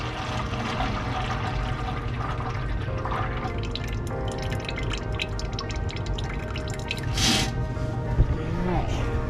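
Coolant water trickles and splashes steadily as it drains from the engine block of an Oliver Super 88 tractor, a continuous close liquid flow with a brief louder gush near the end.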